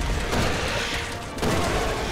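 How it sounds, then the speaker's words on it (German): Magnum revolver gunfire in the video game Resident Evil 6, a dense, loud, booming blast with a heavy low-end roar filling the short clip. "Ich halte mal von hier oben in der Magnum drauf"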